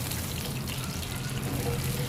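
Water pours steadily for Ahmedabadi khaman batter, a continuous close trickle and splash throughout with no talk.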